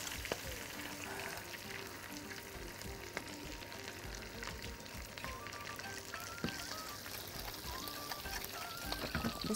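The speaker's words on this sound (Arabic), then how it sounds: "البودنج ده عايز يتقلب كويس قوي" Pudding stirred in a pot on the stove, a continuous bubbling, sizzling hiss with faint scraping and occasional clicks throughout, no speech over it.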